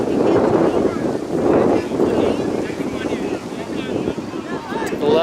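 Wind gusting across an open soccer field during a high school match, a loud buffeting rumble against the microphone with some voices mixed in.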